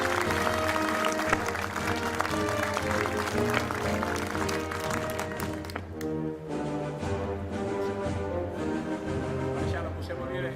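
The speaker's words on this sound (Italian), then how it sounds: "con un caloroso applauso terminiamo questa bellissima e toccante" Applause closes a Nassiriya commemoration ceremony at a museum in Jesolo, a dense steady clapping from a crowd that softens partway through and continues to the end.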